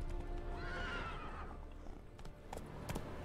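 Roach the horse whinnies in a rising and falling neigh in The Witcher 3, close but fairly soft, followed by a few hoof clops.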